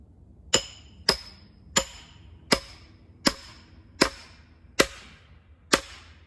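Eight sharp, evenly spaced metallic strikes, like a hammer hitting a nail or wedge, each ringing briefly before the next blow.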